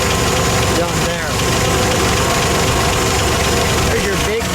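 A 1972 Plymouth Duster with a 225 cubic-inch Slant 6 runs at a steady, close idle with a faint knocking pulse and a brief rise in revs near the start, and a voice is heard briefly over the engine.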